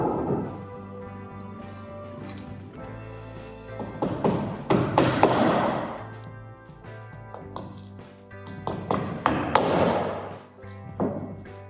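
Nails being hammered into a wooden garden shed roof, heard as clusters of sharp, resonant taps and heavier thuds in irregular bursts, close by, with faint ringing between strikes.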